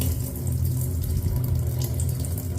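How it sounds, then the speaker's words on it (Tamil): Moong dal lentils are rinsed in water, with a steady stream of running tap water and a gentle wash of sloshing throughout. "இதை நல்லா வாஷ் பண்ணி எடுத்துக்குங்க."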